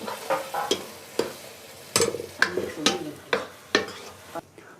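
Spinach and kandali nettle greens are stirred and roasted in a pan, with a steady soft sizzle broken by repeated sharp scraping strokes of a spoon against the metal, about nine close, clear strokes in an uneven rhythm.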